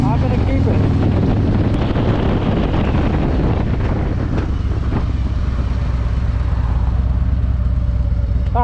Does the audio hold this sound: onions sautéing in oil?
no